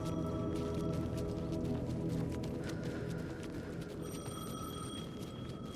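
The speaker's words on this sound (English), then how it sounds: "The payphone was ringing." Payphone ringing in the video game Alan Wake 2, a repeated electronic bell ring over a steady loud ambient drone, with no talk.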